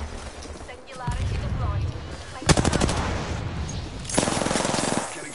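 Rapid automatic gunfire from an Apex Legends match, two loud bursts of fast repeated shots over game ambience, with a voice speaking at times.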